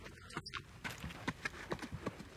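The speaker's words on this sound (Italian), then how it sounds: "Il mio asino sta scappando!" A donkey's hooves clatter away in a quick irregular clip-clop rhythm over ground, moderately close and fading, after a brief burst of noise at the start.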